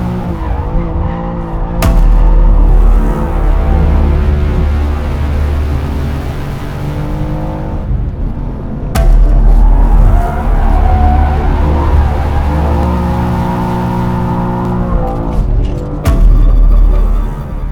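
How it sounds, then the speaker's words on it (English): A BMW M2 with a 3-litre twin-turbo straight-six is driven hard on a race track, its engine roaring loudly and close with tyres squealing through corners, revs dropping briefly at a few abrupt gear shifts. "The 3-litre straight 6 twin turbo engine pumping out 453 horsepower."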